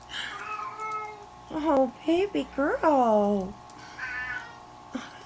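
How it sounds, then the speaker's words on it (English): A pet cat meows loudly several times in drawn-out, rising and falling cries, close by, with a voice speaking briefly at the start. "Oh my kitty, my kitty."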